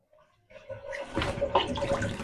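A pickle jar being rinsed under running water in a home kitchen, a soft gurgling flow starting after a faint moment and splashing steadily close by.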